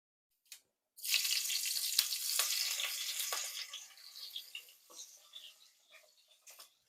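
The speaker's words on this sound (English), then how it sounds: "Okay guys, now I'm putting some oil. And I'm gonna fry some" Oil frying food for a Haitian dish on a rainy day, a broad steady sizzle that starts abruptly after a small tap, holds loud for a few seconds, then thins into softer crackles and pops near the pan.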